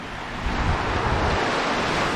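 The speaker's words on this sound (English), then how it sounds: "I love the sound of the waves." Ocean waves at low tide on a clear day, a steady broadband wash of surf mixed with wind buffeting the microphone, with no voices.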